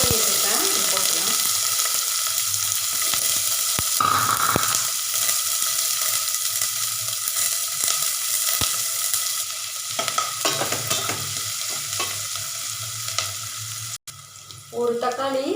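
Chopped onions with cumin and asafoetida frying in oil for a fenugreek leaf sambar: a loud, continuous sizzle with repeated stirring scrapes, close by, a faint voice briefly underneath and a short clatter near the end.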